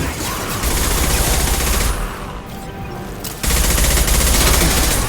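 Sustained gunfire in Mass Effect 2, a loud, continuous barrage of rapid shots that dips briefly, then resumes at full intensity.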